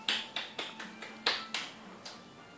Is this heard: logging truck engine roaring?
no